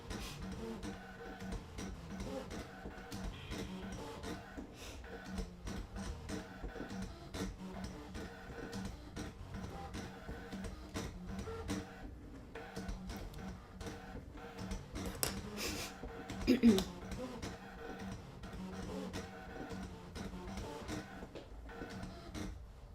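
A Brother ScanNCut machine cutting felt with a rotary blade, producing a faint, steady mechanical whir with light ticking and a brief louder motor burst partway through, quiet throughout.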